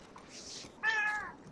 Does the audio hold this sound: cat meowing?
yes